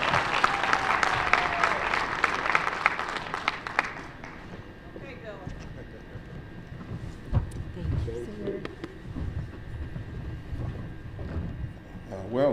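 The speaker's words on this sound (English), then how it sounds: "I want to give a huge round of applause" Audience applause for a speaker being welcomed to the stage at an airport concessions symposium, loud and dense for the first four seconds, then thinning to scattered claps, shuffling and murmuring voices.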